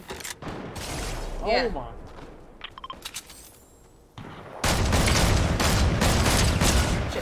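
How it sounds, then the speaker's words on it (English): Gunfire in the Fortnite video game, dense broadband bursts of shots that turn into loud sustained firing for the last few seconds, with people talking and shouting over it. "There is people shooting from the canyon."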